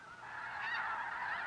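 Snow geese honk in a dense, continuous flock chorus from a 16mm nature film soundtrack, a steady overlapping clamor without pauses.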